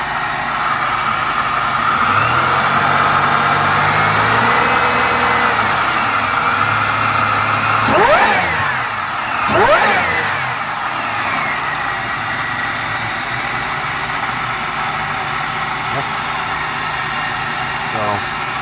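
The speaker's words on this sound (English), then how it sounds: "I think it's warmed up enough to do a little bit of rev for you guys." A supercharged 1997 Buick Regal GS engine idles steadily, then is blipped twice in quick succession, rising to sharp revs before settling back to a smooth, even idle, heard up close.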